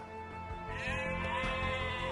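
Sheep bleating in the Age of Empires 2 video game, a short wavering call over steady in-game background sound and music, fairly loud and continuous.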